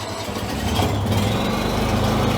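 A Honda EU7000is generator engine runs loud and close with a steady, dense rumble and no voices, holding an even idle throughout.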